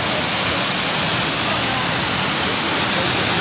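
Waterfall at Sillans-la-Cascade in France, a dense, constant broadband roar of falling water, loud and unbroken throughout.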